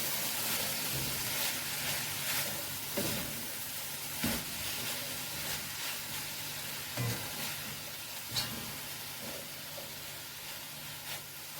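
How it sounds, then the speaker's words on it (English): Okra cook-up rice with salt fish, cilantro and jalapeno pepper being stirred in a pot, a steady sizzle and hiss broken by repeated sharp scrapes and clinks of the spoon, close and alone. "Give it a good stir."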